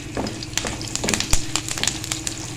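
Cumin seeds crackle and sizzle in hot oil for a kadhi tempering, with quick irregular pops over a steady frying hiss, close and moderately loud.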